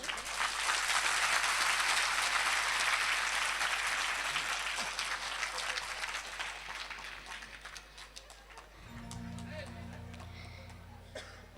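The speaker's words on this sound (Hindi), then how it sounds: "आप लोग ताली क्यों बजा रहे हैं?" An audience at a Hindi spiritual storytelling gathering claps loudly and steadily for about eight seconds, a dense roar of hands that fades before a voice begins speaking over soft background tones.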